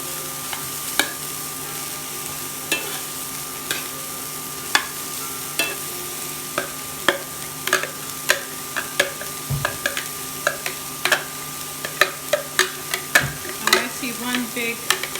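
Cauliflower tossed into browning onions in a pan for keto aromatic rice sizzles steadily up close, broken by frequent sharp scrapes and clicks of stirring that grow busier toward the end.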